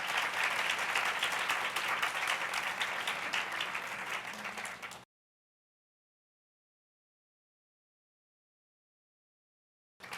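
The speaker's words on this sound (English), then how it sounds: "let's give our panelists a round of applause" A panel audience at an evening event on the future of HR gives the panelists a dense, steady round of applause for about five seconds, which then cuts off abruptly into silence.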